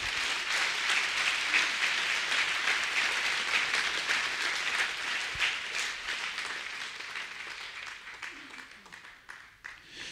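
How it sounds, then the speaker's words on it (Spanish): A church congregation claps loudly during worship, with thick applause that gradually tapers off while a voice speaks over it. "Dele fuerte el aplauso al Señor."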